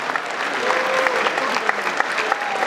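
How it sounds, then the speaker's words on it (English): Crowd applause for the ladies at a live event hosted by an MC, a dense, continuous wash of clapping from a sizable audience with faint voices and cheers mixed in. "can we give the ladies a round of applause?"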